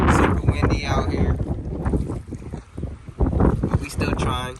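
Strong wind roars across a waterfront fishing spot at low tide in Martinez, California, pounding the microphone with loud gusty rumble and flutter throughout.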